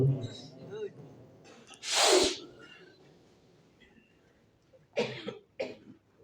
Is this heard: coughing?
yes